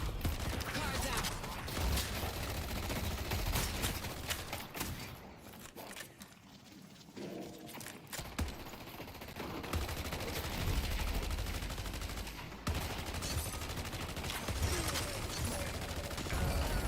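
Dense, continuous gunfire in a video game roars nonstop, loud and full-band, with brief dips in the middle and near the end but no real pause.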